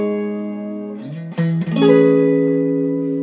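Electric guitar chords on a Fender Stratocaster in a glassy blues tone: a sustained chord rings, shifts through a quick slide and change, then settles into a new ringing chord, alone and clear.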